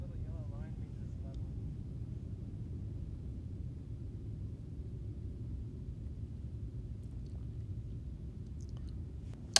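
An Air France Airbus A350-900 departs Houston, heard from inside the cabin as a steady low engine drone and rumble, with a faint voice briefly over it and a click near the end.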